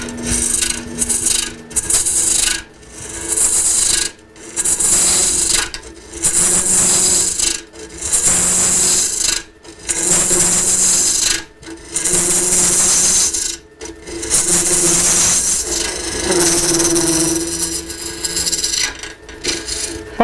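A lathe tool scrapes and rasps inside a spinning wooden bowl as it is hollowed, in repeated loud bursts of several seconds each, broken by short pauses.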